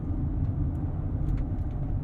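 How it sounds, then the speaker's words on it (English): Steady, loud V8 rumble of a Bentley Bentayga EWB pulling hard out of a corner, heard from inside the cabin as a continuous low drone with faint ticks on top. "Oh, but that V8 carrying us out of the corner"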